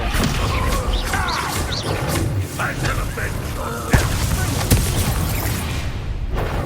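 Descendo spell effects in the Hogwarts Legacy video game land as heavy booms and crashing impacts, with two sharp hits standing out amid combat noise while voices shout over the fight.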